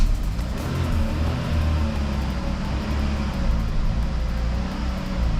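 A Chevrolet Sonic engine is held at steady, raised revs, giving a loud, continuous low drone with a slight rising and falling swell over several seconds, heard up close with no talking.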